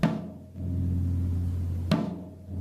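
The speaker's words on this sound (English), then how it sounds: "When we started playing bass drum, our bass drum sounded more like this." Two booming bass drum hits, each with a deep, long-sustaining resonant tone that rings on until the next stroke.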